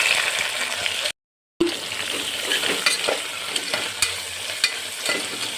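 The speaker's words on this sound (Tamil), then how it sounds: "இப்போ வெங்காயத்தை சேர்த்துடலாம்" Onions fry with masala in a pan for vegetable pulao, giving a steady, close sizzle with occasional stirring clatter. A brief dropout breaks the sound early on, and no one talks.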